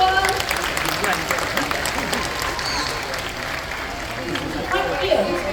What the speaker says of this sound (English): Can we give him a big round of applause, everyone?